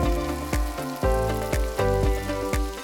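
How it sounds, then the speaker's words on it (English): Hot butter sizzles and crackles steadily in a pan as eggs Benedict are basted, with repeated soft spoon-like splashes landing roughly every half second over the continuous frying hiss. "We're gonna give it one final basting here now that the butter has heated up really well."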